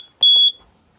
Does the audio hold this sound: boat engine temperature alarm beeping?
yes